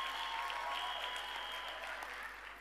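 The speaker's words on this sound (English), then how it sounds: "give yourself a warm round of applause." Faint, distant applause from a graduation ceremony crowd, a soft even wash of clapping in a large hall, fading slightly toward the end.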